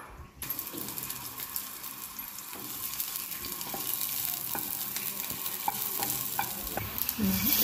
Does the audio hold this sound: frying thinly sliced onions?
yes